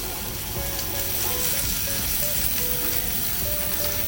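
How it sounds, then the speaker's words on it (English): Salmon frying in a pan for sinigang, a loud, dense, continuous sizzle and crackle heard up close with no voices. "Now I start to fry the fish"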